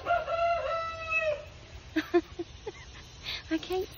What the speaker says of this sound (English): I can't see the rooster.